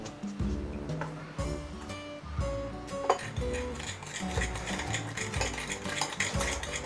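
A spoon stirs a pork rib marinade of oyster sauce, white pepper, salt and sugar in a bowl, with repeated clinks and scrapes in a brisk, uneven rhythm, close and fairly loud, with no talk.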